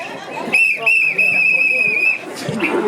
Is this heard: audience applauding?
no